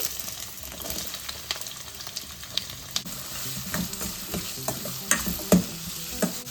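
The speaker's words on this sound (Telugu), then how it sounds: "కొంచెం ఆయిల్ వేసుకొని ఆనియన్ టమోటా ఫ్రై చేసుకుందామండి." Onions fry in oil in a pan for a kurma, with a soft steady sizzle and scattered stirring clicks and scrapes from a spoon, moderately quiet and with no talk.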